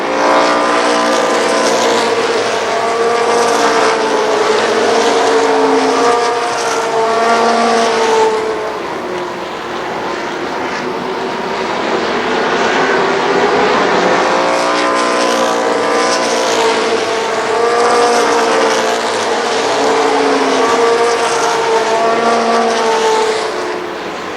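Super late model stock cars race at Columbus Motor Speedway in 1995, with loud roaring engines that rise and fall in repeated Doppler sweeps as the pack passes, sustained and continuous throughout.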